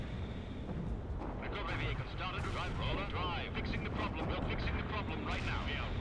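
Airstrike explosions in the real-time strategy game World in Conflict, a continuous roar of rumbling blasts and crackling gunfire under someone talking throughout.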